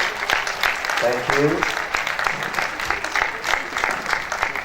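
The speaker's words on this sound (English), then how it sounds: "A round of applause." Attendees at an annual assembly of registered quantity surveyors applaud an honoree, moderate scattered clapping running through the clip while a voice speaks briefly over it.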